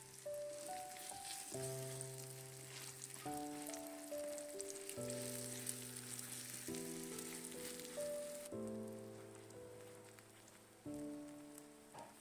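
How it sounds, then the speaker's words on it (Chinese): Batter poured into a lightly oiled pan sizzles softly and continuously, a faint crackle sitting beneath a prominent melodic music track. "然后把搅拌好的面糊倒入锅中，再用铲子给它整理平整"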